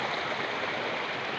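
Drinking water pouring in a steady broadband stream beside a forest trail near Dharan, a continuous close rush with no break and no voices.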